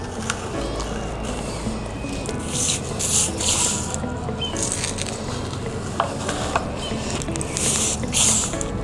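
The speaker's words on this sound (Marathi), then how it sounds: "आपण जे तयार केलेलं मिक्सचर आहे ते मिक्सचर झाडाच्या साईडने टाकून द्यायचं।" Potting mix poured and pushed in around a plant set in a garden pot, a close, continuous gritty rustle and rubbing with soft scattered patter of soil, no voices.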